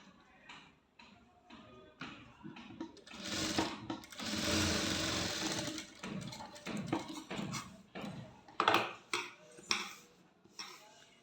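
A sewing machine stitches the neckline of a maxi top, running in short bursts and one longer sustained run in the middle, close by with light handling clatter and no talk.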